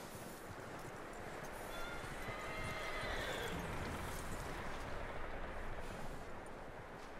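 A horse whinnies in a Red Dead Redemption 2 game scene, steady and fairly loud over continuous hoof clip-clop and outdoor ambience, with no speech.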